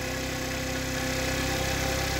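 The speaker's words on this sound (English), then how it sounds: "It's a high idle." A Baotian scooter engine, fitted with a replacement carburettor, runs at a steady high idle, a continuous close buzzing drone with an even throb and no speech.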